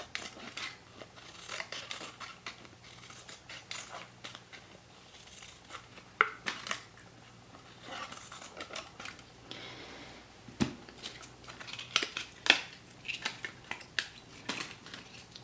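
Scissors snip sunflower petal shapes out of a plastic milk bottle, producing close, crisp cutting clicks and crinkles at an irregular pace, fairly quiet throughout.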